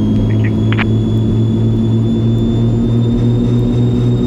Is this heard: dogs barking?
no